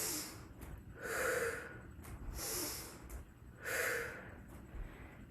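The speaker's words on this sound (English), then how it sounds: "It's called a sniffing breath. It's like you're taking a big inhale." Pilates sniffing breaths come in a steady cycle: three sharp inhales through the nose, each followed by a long, airy exhale through the mouth, heard close and loud with a faint hum behind them.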